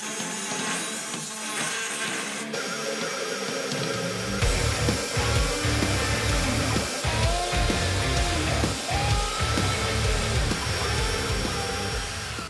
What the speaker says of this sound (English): I love this Porta bandsaw for stock removal knife making. It really helps.